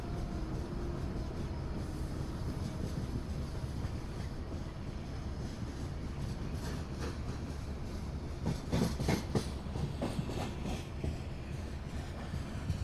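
Local train passing in Microsoft Train Simulator on a Mumbai-area route toward Kalyan, continuous rumbling rolling noise with a cluster of clattering rail clicks toward the end, fairly close and steady.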